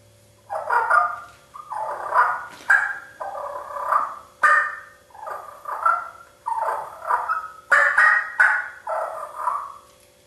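Turkey hen purr imitated with a hunting turkey call, a series of about ten short rolling, fluttering purrs repeated in a steady rhythm, close and clear with no talking.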